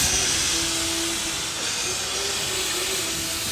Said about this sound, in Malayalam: ട്രെയിൻ സ്റ്റാർട്ട് ചെയ്തു.